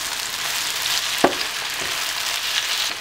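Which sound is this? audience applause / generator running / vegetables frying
vegetables frying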